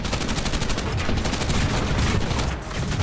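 Rapid, sustained gunfire from the A-35B's guns in War Thunder: a dense, loud stream of shots that continues without a break for the whole stretch, with no talking.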